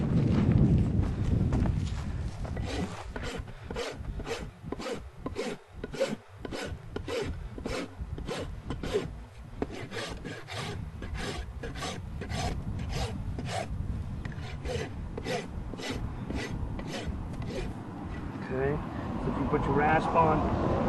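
A rasp files down a horse's hoof during trimming for shoeing, producing loud, close, rhythmic scraping strokes repeated dozens of times at a steady pace, with a person talking over them.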